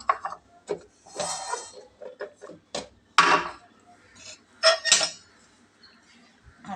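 Spice containers shifted and wiped on a kitchen shelf give off scattered clinks, knocks and light scrapes of metal and wood, irregular and close, with quiet gaps between them.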